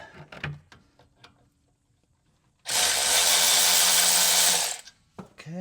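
A power tool with a 17mm socket spins out brake caliper bolts on a 2019 Ford, one loud two-second whirring burst up close, bracketed by small clanks of work.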